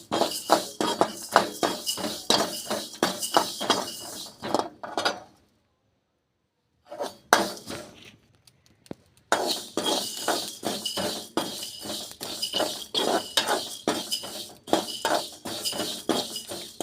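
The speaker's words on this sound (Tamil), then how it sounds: "வெறும் வடச்சட்டில் கொட்டி வறுத்து எடுத்துக்கலாம்" Drumstick leaves dry-roast in an empty kadai pan, stirred with steady, close scraping and light metallic clinks that stop for a silent pause midway, then resume.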